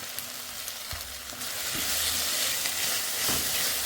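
Tomato hitting a pan of frying onion, with a steady hiss that swells and grows louder partway through, broken by a few soft scrapes and knocks, close up and with no talking.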